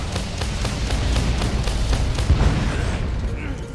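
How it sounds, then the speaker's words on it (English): A game explosion in Monster Hunter World, heard as a loud, sustained rumbling boom with repeated crackling bursts over several seconds, fading near the end. "Explosion."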